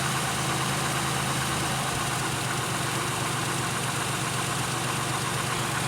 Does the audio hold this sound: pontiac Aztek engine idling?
yes